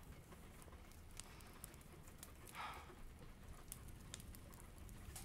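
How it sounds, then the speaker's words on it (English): Light rain falling, a faint, soft, continuous patter with scattered drip-like ticks, heard alone at low level. "Oh, it's raining. I've grown to love the sound of rain."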